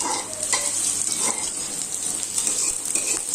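Diced potatoes fry and sizzle steadily in hot oil with mustard seeds in a pan for a Chhattisgarh-style aloo dish, with occasional stirring scrapes, close and continuous, no voices.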